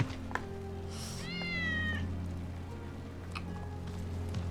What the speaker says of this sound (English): Hear that? Cat. That's Wedge's cat.